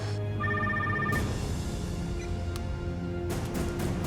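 A telephone rings in a tense indoor scene, with a short electronic ring tone repeating twice, then falling quiet under a steady low background hum before another brief burst near the end.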